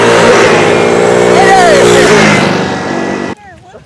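A moped engine revs loudly during a race, its pitch rising and falling close by, and it cuts off sharply near the end. A voice can be heard over the engine.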